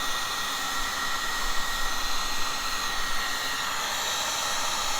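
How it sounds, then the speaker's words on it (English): A heat gun blows hot air over greased moving parts in the side compartment of a stuck Kenmore machine, a steady, loud, unbroken whooshing roar held at constant strength from start to finish. "Don't get this heat gun anywhere near your belts."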